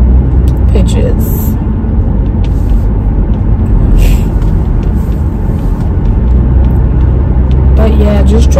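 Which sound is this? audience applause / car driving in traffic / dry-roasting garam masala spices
car driving in traffic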